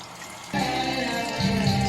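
Water pouring out of a cleaned biosand filter, a steady trickle that rises into a fuller, louder splashing flow partway through, close and alone.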